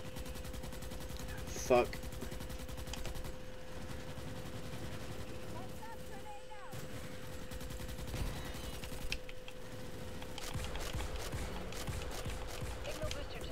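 Hip-fired automatic gunfire in the Starship Troopers video game, sustained bursts throughout under game music and effects, with a brief voice exclamation near the start.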